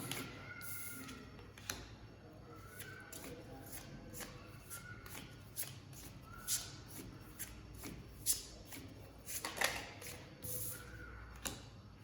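Tarot cards being shuffled by hand, a steady run of soft papery riffles and light taps that sound close and quiet, with no voices.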